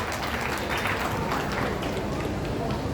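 Children clapping together in welcome for a guest, a steady dense patter of many hands that holds at an even, fairly loud level throughout.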